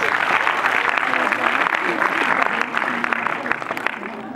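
An audience at a magic show claps loudly and steadily for over four seconds, a dense, close wash of applause with a few voices mixed in that tapers slightly at the end.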